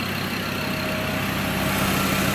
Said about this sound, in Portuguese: O motor está funcionando, agora nós vamos fazer o acabamento dele.